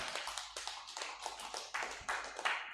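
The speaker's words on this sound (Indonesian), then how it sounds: "Tepuk tangan untuk kita semuanya" A small group at a leadership training session for pastors and church workers claps together in loose rhythmic bursts, roughly two per second, fairly close and moderately loud, with no talking over it.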